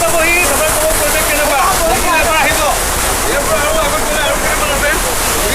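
A waterfall along the road to Longding in Arunachal Pradesh roars as a loud, steady broadband wash of falling water, with a faint voice partly buried beneath it.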